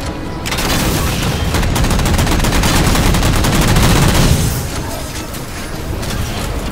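Loud, rapid gunfire in Halo 4 rattles in a dense, sustained burst with booming impacts, then tapers into a softer rumble of continued shooting.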